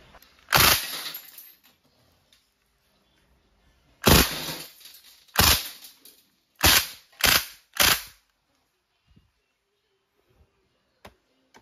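A KWC CO2-powered full-metal steel-ball airgun submachine gun fires close by in short full-automatic bursts, one sharp burst followed by several rapid bursts spaced a second or so apart, with near silence between them.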